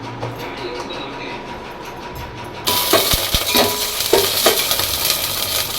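Chili tempering in hot oil and Dalda ghee for dalma starts as a quiet background, then bursts into a loud, close sizzle with sharp metallic clinks and spoon scrapes against the pan.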